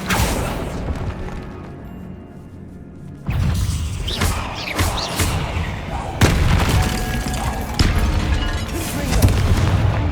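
In Hogwarts Legacy, Bombarda blasts land as heavy, booming explosions with crackling debris, several loud hits in a row mixed with game effects and occasional voices.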